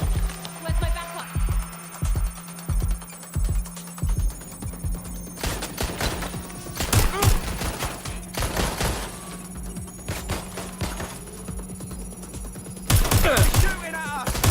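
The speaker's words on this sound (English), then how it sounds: "Shooting at us!" Gunfire in the video game Watch Dogs: Legion, a rhythmic series of shots at first, then denser bursts of rapid fire mixed with other game sounds, fairly loud and continuous throughout.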